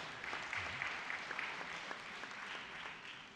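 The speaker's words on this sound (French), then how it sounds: "Alors on peut encore les applaudir là pour le coup." A room of people at a plenary session claps steadily, the applause moderately loud and continuous, with scattered sharper claps standing out.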